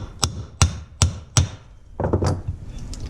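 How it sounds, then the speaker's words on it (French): A hammer striking a socket to drive out a scooter crankshaft: four sharp metallic blows at an even pace, then a quicker cluster of lighter knocks and clatter, close and loud. "Une douille, un marteau."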